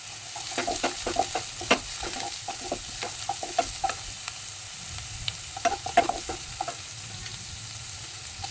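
Chopped chilies, garlic, onion and capsicum frying in a pan, a low steady sizzle under a quick, uneven series of light spatula scrapes and taps, close and fairly quiet throughout.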